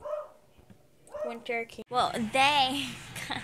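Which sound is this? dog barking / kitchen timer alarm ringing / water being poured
dog barking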